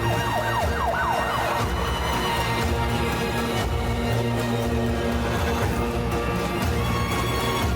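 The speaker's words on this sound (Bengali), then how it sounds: "শুনতে পেল বাইরে পুলিশের গাড়ির শব্দ" Police car siren wailing continuously outside, loud and steady with rising and falling tones over a dense background of traffic and dramatic music, no voices.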